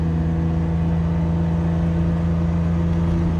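A BMW E30 drift car with a turbocharged M50 engine driving normally, a steady loud droning engine hum heard from inside, even and unchanging throughout.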